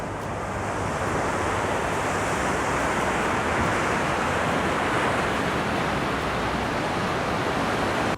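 Ocean surf at the beach by the breakwall in Port Macquarie, a continuous broadband roar of breaking waves with wind mixed in, steady and fairly loud throughout.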